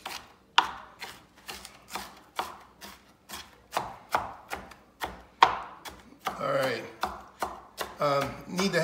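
Onions chopped with a knife on a cutting board, a steady run of sharp, evenly spaced thuds close by, speeding into quicker, busier cuts near the end.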